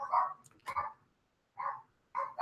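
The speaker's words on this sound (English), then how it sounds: "Y'all can hear the dogs going crazy in the background because of somebody knocking." Dogs bark in bursts in the background of a room, reacting to someone knocking on a door; four separate barking bouts with short silent gaps, moderately distant and without other voices.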